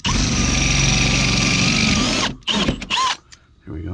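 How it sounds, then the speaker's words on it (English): A power drill bores out a bracket while a refrigerator is replaced, whining loud and close for about two seconds, then short bursts and clunks. "But I've got to drill this out here."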